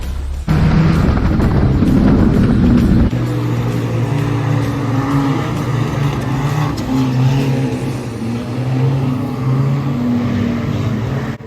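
A race car at Cowdenbeath Racewall roars around a wet oval track, a loud close engine drone that rises and falls with revs and carries the spray and hiss of wet tarmac.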